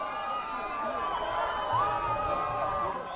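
Football supporters cheer and whoop outdoors in Chapecó as an injured Chapecoense defender arrives, a steady distant crowd roar with scattered shouts and high voices running throughout.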